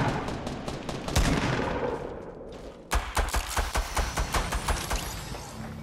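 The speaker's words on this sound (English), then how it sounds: "I've got a grey pistol. Can I get any kills with a grey pistol?" Rapid pistol gunfire from the Fortnite video game, a ragged burst of shots early on and then a steady run of loud, closely spaced shots, with no talking.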